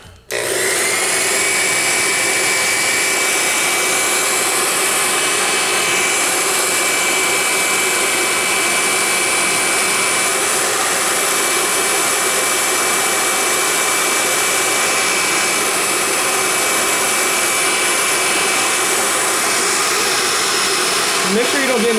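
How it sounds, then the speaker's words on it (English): A handheld hairdryer runs steadily at full blast for the whole stretch, drying wet paint on a small model car, with a loud continuous whooshing roar and a motor whine. "what I'm gonna do is that I'm gonna use a hairdryer for it."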